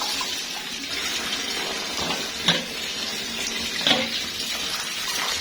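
Kitchen tap running while red peppers are washed under it, a steady close stream of water with a couple of brief splashes and clunks as the peppers are handled.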